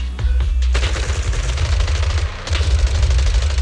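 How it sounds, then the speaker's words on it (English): Rapid bursts of gunfire from the Zenless Zone Zero video game, loud, sharp, dense automatic shots firing in quick succession with a brief lull before another volley. "A sharp gunshot echoes from not far away, like the crackling of a dry firework on a summer night."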